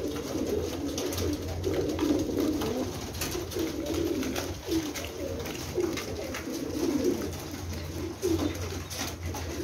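Pigeons coo continuously in a loft, soft rolling calls overlapping one another at moderate distance against a steady background hum.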